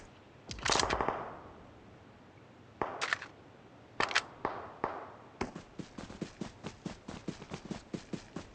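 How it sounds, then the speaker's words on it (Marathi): Enemy gunfire in the mobile battle royale game BGMI: a few separate bursts of shots, then a rapid string of evenly spaced rounds, moderately close with no talk. "इकडे एनिमी गोळ्या मारायला लागल्यात"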